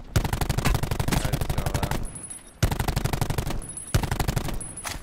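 Close, loud bursts of rapid automatic gunfire in a shooter game, three long strings of rattling shots separated by brief pauses, with no speech over them.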